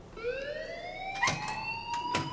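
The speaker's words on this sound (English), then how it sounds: "please turn off that alarm since that's your job" An alarm blares in the video game Life Is Strange, a loud, rising electronic siren tone sweeping upward and holding steady, with a few sharp clicks or thumps breaking through.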